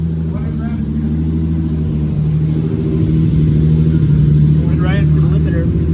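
A Toyota Supra engine revs hard up to its rev limiter. It gives a loud, steady droning roar that builds slightly and holds near the limit, with a brief voice heard over it.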